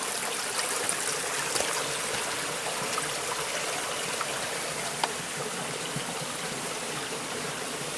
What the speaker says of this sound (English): There's water running underneath it.